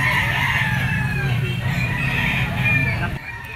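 A gray straight-comb, green-legged rooster crows loudly and close in one sustained call that lasts about three seconds before fading out.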